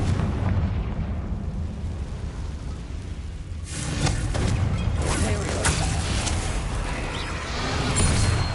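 Confringo blasting spell in the Hogwarts Legacy video game, a rumbling explosive burst swelling out of steady background noise, rolling like thunder, with a voice faintly in the mix.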